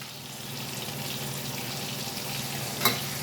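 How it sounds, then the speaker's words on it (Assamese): Potato pieces fry in hot oil with a steady, moderate sizzle throughout, and one brief sharp clink near the end; no one speaks. "সেইকাৰণে আমি আলু কেইপিচ মচমচীয়াকৈ প্ৰথমতে ভাজি লৈছোঁ।"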